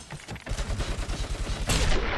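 Rapid gunfire in the video game RoboCop: Rogue City, a loud burst of repeated shots that builds into a heavier blast near the end, with no talking.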